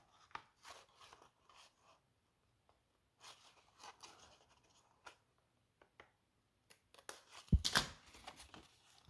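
Card paper being cut by hand for a swing easel card, with quiet scattered snips and rustles spread across the stretch and a louder burst of crunching and handling near the end, no talking.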